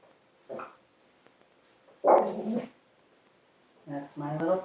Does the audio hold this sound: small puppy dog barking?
yes